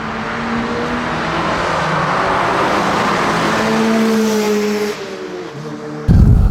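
A car charges through the Corkscrew at Laguna Seca racetrack, its engine droning loud and rising through the gears as it builds speed, then easing off before a sudden harsh burst of noise at the end.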